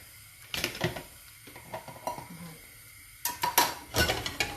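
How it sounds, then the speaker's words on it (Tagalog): Shrimp being sautéed for palabok in a home kitchen: a metal utensil scrapes and clinks against the pan in short irregular bursts, with soft sizzling between strokes. "gisahin muna ang ating hipon"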